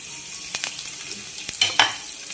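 Curry leaves, chili and garlic sizzle in hot oil for a tempering, a constant close hiss with a few sharp crackles and spatula stirs.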